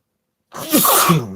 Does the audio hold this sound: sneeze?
yes